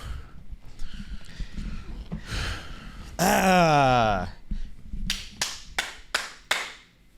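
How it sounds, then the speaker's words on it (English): On a podcast set, several sharp hand claps ring out in quick succession near the end, following people talking and a loud, drawn-out vocal outburst. "Why did you clap, bro?"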